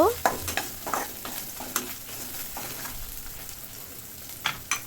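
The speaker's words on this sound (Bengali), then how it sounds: "আদা রসুনগুলো একটু ভেজে নিব" Ginger garlic paste fries with pepe, potol and potato in a pan, a busy close sizzle with frequent spatula scrapes and knocks throughout.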